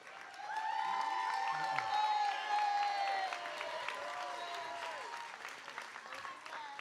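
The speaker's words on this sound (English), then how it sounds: "please give a big round of applause to show our appreciation for their service" Audience applause and cheering at a realtor celebration event, moderately quiet clapping under tonal, whistle-like sounds and voices, steady throughout before thinning slightly toward the end.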